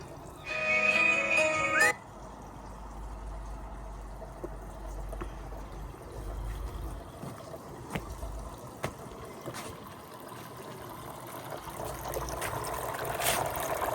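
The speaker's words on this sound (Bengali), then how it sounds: "পানির শব্দটা এত ভালো লাগে, কি বলবো" Faint, steady river water flows continuously at a quiet summer riverside spot, after a brief louder rustling burst at the very start.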